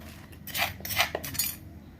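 Roasted ground rice being scooped into a container with a metal utensil in a rural Thai home kitchen, a few light scraping clinks and taps, fairly close and soft over quiet background.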